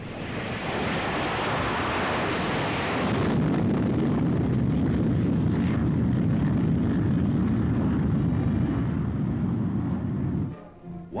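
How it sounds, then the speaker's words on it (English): Jet bombers roar past in a dense, loud, sustained rushing blast of engine noise that swells, holds steady and then drops away. "America was building an arsenal of jet bombers."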